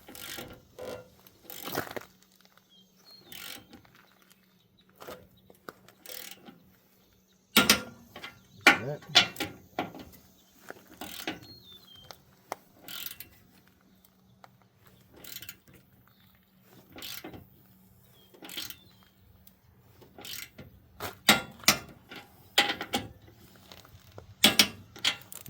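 A wrench works the bolts of a Weigh Safe heavyweight trailer hitch in scattered ratcheting bursts and metallic clicks. The clicks come in irregular clusters with quiet gaps between them, close by and fairly loud, and no one speaks.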